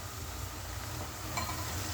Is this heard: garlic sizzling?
yes